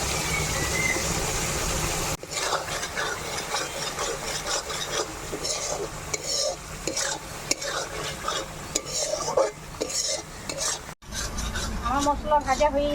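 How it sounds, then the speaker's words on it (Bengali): Spices with turmeric, salt and sugar fry in a pan for dim-alur dom, a spoon scraping and stirring them in a steady, close rasping rhythm over a soft sizzle, with brief pauses between strokes. "মশলা ভাজা হয়ে গেছে"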